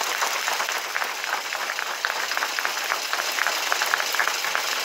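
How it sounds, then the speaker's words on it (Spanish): Steady, dense applause from a gathered crowd at a street paving inauguration in La Granjena, filling the whole stretch at an even, fairly loud level with no voices standing out. "a quien les pido por favor que le demos un fuerte aplauso"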